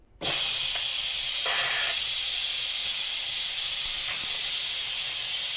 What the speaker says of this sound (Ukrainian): Коли паровий клапан зовсім перестає шипіти, кришка розблоковується